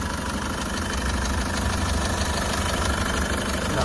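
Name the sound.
SsangYong Rexton Sports diesel engine idling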